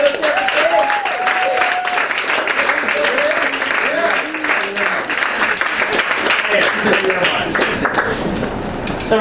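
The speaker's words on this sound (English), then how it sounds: "Big round of applause for Dave Longenhagen, everybody." An audience at a comedy show breaks into sustained, loud applause that fills the room, with a host's amplified voice talking over the clapping.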